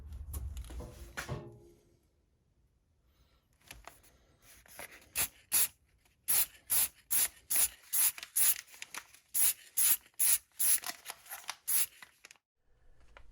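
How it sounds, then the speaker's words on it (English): Masking tape pulled off a roll and pressed onto a resin Dune crysknife prop, with a quick run of sharp, rhythmic tearing and ripping strips close by after quieter handling sounds. "let's tape it up"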